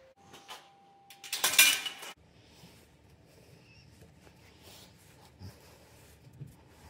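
Small loose steel bearing balls clatter and jingle against metal parts during the restoration of a 1980 Raleigh Competition GS bicycle. One bright, close burst of rattling is followed by faint handling noises.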